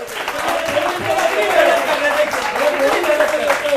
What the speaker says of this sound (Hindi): तालियां बजा दीजिए, क्या पता शांत हो जाए